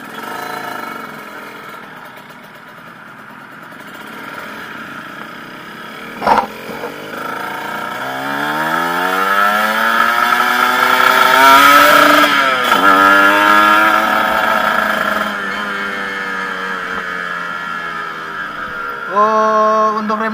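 Kawasaki Ninja RR two-stroke motorcycle engine revving on a test ride, pitch climbing and falling through several rising sweeps, loud and continuous with a sharp click partway and a brief blip near the end.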